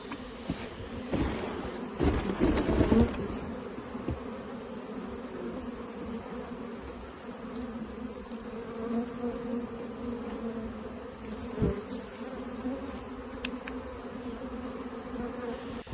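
A swarm of honeybees is gently moved into a hive outdoors, a continuous buzzing drone hanging throughout, swelling briefly near the start, with a few faint knocks and rustles close by.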